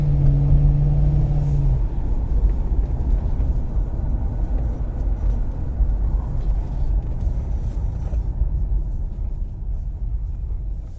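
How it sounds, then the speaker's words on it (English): A 2008 Ford Crown Victoria Police Interceptor engine accelerates steadily, with a loud, continuous low rumble heard close up and rising through gear shifts. "Okay, car shifts perfectly fine."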